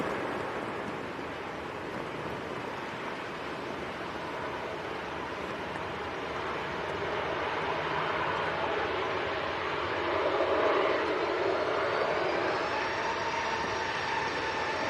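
A KLM airliner from Amsterdam arrives at Manchester Airport on a windy day with a wet runway, heard as a broad steady roar of engine and rushing noise from some distance that swells gradually toward the end.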